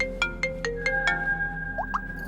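Mobile phone ringtone playing a bright melodic run of quick chiming notes followed by two rising tones, soft and fairly close, with no voices over it.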